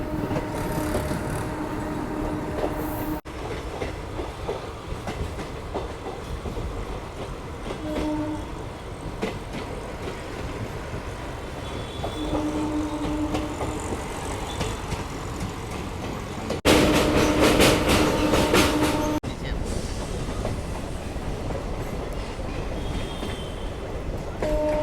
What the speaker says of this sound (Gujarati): ચાલો, અહીંયાથી આ જાય છે ડેમો ટ્રેન માટે સ્પેશિયલ.